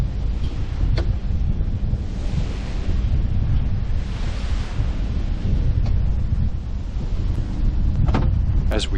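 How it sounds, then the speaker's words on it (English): Choppy, washing-machine waves in a narrow channel on Lake Huron heard from aboard a Catalina 30 sailboat: a loud, continuous rush and slosh of water with heavy wind buffeting close to the microphone, and occasional sharper knocks. "As we passed through the washing machine waves of the narrow channel"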